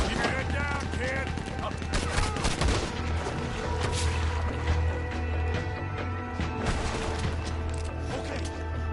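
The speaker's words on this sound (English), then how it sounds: "He's going for the Gatling. Look out, he's firing." Gatling gun in Red Dead Redemption 2 firing rapid, continuous bursts of gunfire with crashes and impacts over game sounds, heard throughout.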